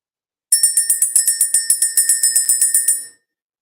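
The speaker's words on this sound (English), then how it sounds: "we're going to go ahead and ring the bell" Small bell rung to clear energy, a bright, rapid series of about twenty metallic dings in quick even rhythm, close and loud, ending abruptly after about two and a half seconds.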